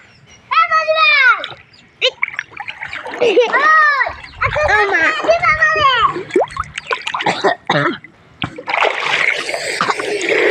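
Children splash while swimming in water, with sloshing bursts and a louder broadband splash near the end, mostly under loud, excited children's voices and shouts.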